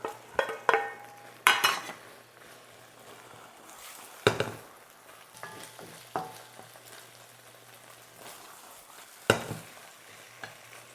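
Shishito peppers and egg are stir-fried in a pan, with a quiet sizzle beneath intermittent sharp scrapes and knocks of a utensil against the pan.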